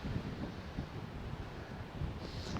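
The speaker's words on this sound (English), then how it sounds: "It's much windier." Wind gusting across a microphone at a Colorado campsite, a low, rough rumbling buffet that runs steadily through the short stretch with no voices.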